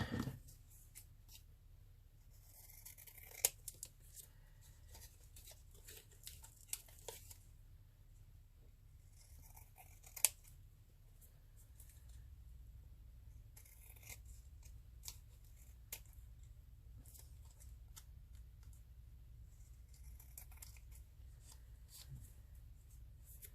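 Scissors trim paper for a handmade ephemera coin-holder embellishment, quiet close snips and rustles scattered irregularly over a faint background hum, with a few sharper clicks standing out.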